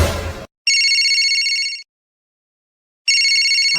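A telephone ringtone chirps in two clear electronic bursts separated by a pause, loud and close, with a brief scrap of room noise at the start and no talking over the rings.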